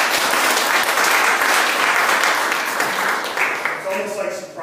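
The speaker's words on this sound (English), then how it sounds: "let's get a round of applause" Full audience applause at a real estate investing seminar, loud and dense, tapering slightly toward the end as a voice begins to speak over it.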